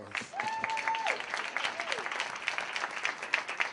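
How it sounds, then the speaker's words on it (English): Audience at a community breakfast claps in a steady wash of applause, with a couple of short whoops or cheers rising above it early on. "Let's give them another round of applause."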